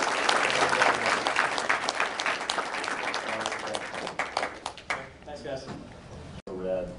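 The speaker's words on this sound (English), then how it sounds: "a round of applause for Mark Brooks" An audience at an art talk applauds a visiting artist with brisk, dense clapping that gradually thins into scattered claps and fades out near the end.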